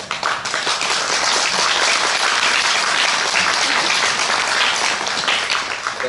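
An audience at an education talk breaks into applause, dense, loud clapping from many hands filling the room continuously from start to finish.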